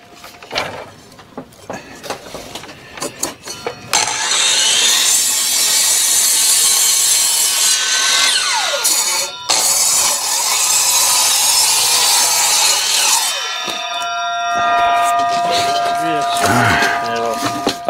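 Saw cutting lumber for a window buck on an ICF building site, a loud, sustained buzzing cut running several seconds, pausing briefly, then continuing before a ringing wind-down, after scattered knocks and handling noises.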